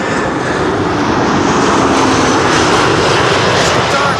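A Lufthansa airliner passes close by at Amsterdam Schiphol on runway 06, its engines a loud, steady, broadband roar that fills the whole stretch with no talking.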